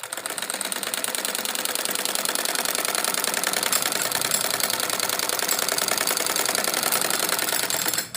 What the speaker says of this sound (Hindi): इसमें हम सिर्फ एक बारीक सिलाई लगाएंगे।